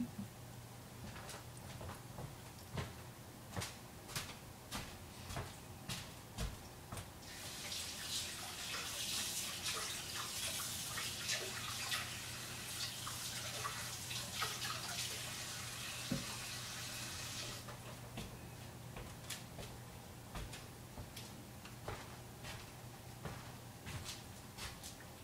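An item rinsed under a running kitchen tap while making almond milk, a soft steady stream of water with faint clinks and handling, the flow swelling louder for several seconds in the middle.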